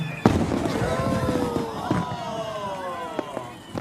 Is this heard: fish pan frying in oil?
no